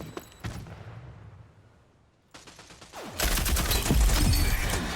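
Gunfire in the shooter game Rogue Company as a player shoots out a utility sensor: a few sharp shots fading into a lull, then a sudden loud, sustained stream of rapid automatic fire with shattering crackle.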